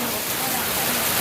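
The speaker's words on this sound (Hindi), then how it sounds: "बहुत तेज बारिश आई है, देखो बहुत तेज बारिश।" Heavy rain pouring down steadily during an outdoor picnic, a close, dense hiss, with voices heard through it.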